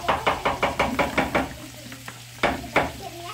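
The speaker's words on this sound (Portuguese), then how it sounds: "Vou colocando um pouquinho de água para ele ir fritando e cozinhando junto" Food frying in a pan with a splash of water sizzles while a utensil stirs and scrapes in a quick, regular rhythm, then a few slower knocks, all close up.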